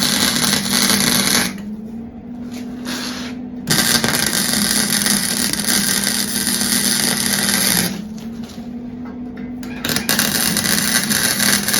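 A Ford Bronco II engine, newly fitted with a manual transmission swap, runs steadily at a loud, close idle with a constant droning hum, dipping briefly twice as the revs settle.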